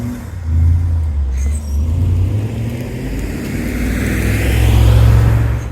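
BMW Z8 sports car engine rumbles low and close from inside the cabin, rising and falling in waves as it revs and accelerates, with no talking.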